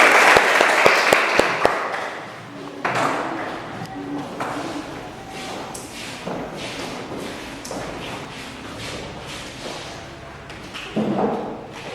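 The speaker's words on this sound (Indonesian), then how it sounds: "berikan aplaus dulu untuk kelompok" Audience applause for the first student group about to present in a classroom teaching practice session, a loud burst of clapping at the start that thins into scattered claps, shuffling and murmurs, with a brief renewed clap near the end.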